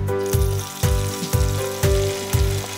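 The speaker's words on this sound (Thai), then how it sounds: "ตั้งกระทะเตรียมทอดปลากันครับ" Steady hot-oil sizzle of Nile tilapia frying in a pan, close by, with a few regular louder thumps or scrapes roughly every half second; no voices.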